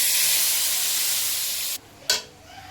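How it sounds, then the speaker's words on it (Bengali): Spice paste of green chili, coriander, chili powder and turmeric hisses loudly after water hits the hot pan, a steady steamy sizzle that cuts off abruptly and then bursts back briefly before fading, heard close with no talking. "এখানে মশলাটা আমি কষিয়ে নিচ্ছি"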